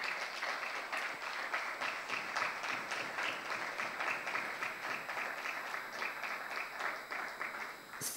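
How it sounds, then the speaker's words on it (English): An audience at a law conference gives sustained applause for an award winner, a steady roll of many hands clapping at moderate volume that slightly fades toward the end. "a round of applause"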